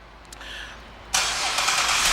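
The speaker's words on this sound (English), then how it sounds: "One of the many options in this vehicle is a remote start, and I'll demonstrate that for you." A 2010 Buick Enclave CXL AWD starts by remote: a brief crank gives way abruptly to a loud, steady hiss and hum of the engine running, close by and without talk.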